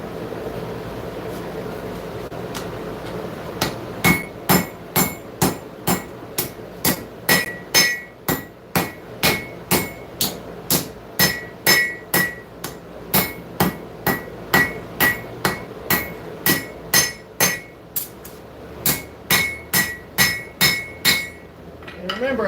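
A hammer forges a hot steel knife blade in a long, steady run of sharp ringing strikes that begins after a quiet few seconds and continues evenly, close and loud, with no talking.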